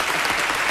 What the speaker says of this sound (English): What are you clapping about, Jordan?